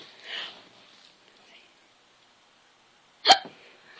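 An infant hiccups at home in a twin nursery, one short sharp hiccup standing out clearly near the end after a soft earlier sound, otherwise quiet.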